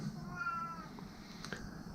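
A house cat meows indoors, a drawn-out mewing call near the start followed by a fainter short sound, heard close but at low level over a quiet room hum.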